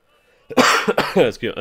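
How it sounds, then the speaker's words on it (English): One sharp cough near the start, close to the microphone, followed straight away by someone talking. "Sorry about that cough."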